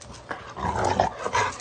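Dogs by a creek growl and grumble in short, close, loud bursts, a few rough vocal pulses with whimpering tones, alone without talk.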